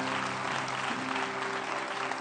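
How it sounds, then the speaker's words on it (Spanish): A church congregation claps together in a dense, steady burst of applause that fills the space at moderate volume for a couple of seconds. "Vamos, aplaude fuerte a Jesús."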